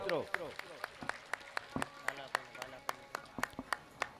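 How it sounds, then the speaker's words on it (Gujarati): An audience claps at a Shrimad Bhagavat Saptah religious gathering, with sharp, evenly spaced claps ringing out close by in a steady rhythm for several seconds. "ખૂબ ખૂબ તાળીઓના ગડગડાટથી વધાવો મિત્રો"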